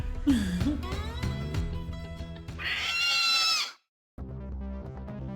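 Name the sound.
big cat squirrel creature call in video game Xenoblade Chronicles X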